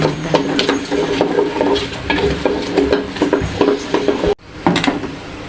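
Dried chilies, garlic and whole five-spice (panch phoron) frying in oil for a raw mango pickle, with a soft sizzle under repeated clinks and scrapes of a utensil stirring in a pan, close and fairly loud.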